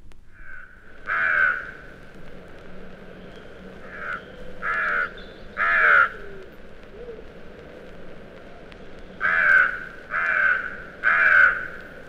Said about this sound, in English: The carrion crow has a deep hoarse caw that often punctuates the other bird sounds of March.